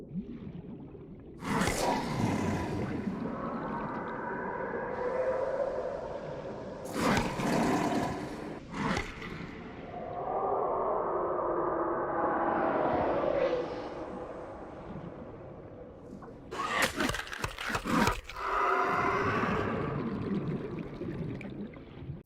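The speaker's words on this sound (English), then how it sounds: "Its roars are like that of the Reaper, which will be coming up, with having a prolonged, almost raspy sounding yell to it." A creature's roar from the underwater video game Subnautica, a prolonged, raspy yell that swells and fades across several long calls, with sharp bursts between them, loud and close with no talking.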